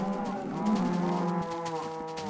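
Cows mooing in Minecraft, a loud, close, deep, drawn-out moo that glides and wavers across the whole moment, with a second lowing overlapping near the end.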